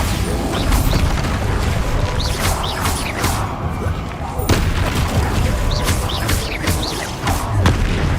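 Repeated Bombarda spell blasts in Hogwarts Legacy combat, several loud booming crashes with crackling debris mixed among other spell effects and a busy battle din.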